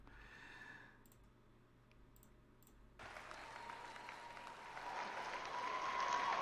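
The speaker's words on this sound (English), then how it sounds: "That one gets the applause." Audience applause at a CPAC speech breaks out after a brief hush, a dense wash of clapping that keeps swelling louder toward the end.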